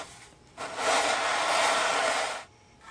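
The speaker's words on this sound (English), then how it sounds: "go ahead and flat sand the plates, both top and back plate" Violin top and back plates are flat sanded in one smooth, loud scraping stroke of about two seconds, with near silence before and after.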